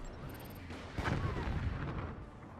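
Weapons firing in the strategy video game Forts, with booming artillery-like shots and a heavier blast at about one second that rolls on as a rumbling tail, moderately loud against a low background hum.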